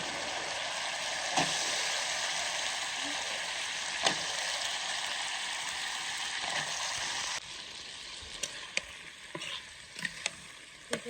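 Vegetables sautéing in a pan with spices already cooked down, a steady close sizzle that runs continuously, with a few sharp ticks and scrapes of stirring toward the end.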